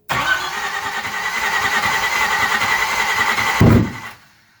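A 1981 Chevrolet Camaro engine on its first start-up cranks and catches into a loud, rough, rumbling run for about four seconds, then a sharp burst and sudden cutoff into silence.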